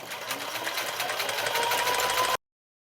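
A sewing machine stitching webbing for a key ring hums in a steady, fast, even run for a couple of seconds before cutting off abruptly, fairly quiet and close.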